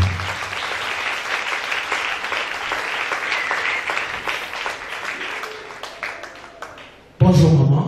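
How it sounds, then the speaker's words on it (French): A church congregation claps loudly and steadily for Jesus at a testimony service. The applause holds, then thins out before a voice abruptly starts speaking close by. "Acclamez très fort pour Jésus"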